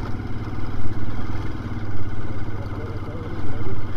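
An old motorcycle strains to carry three riders, its engine putting out a steady, close low drone with clattering rises and dips, while voices talk over it.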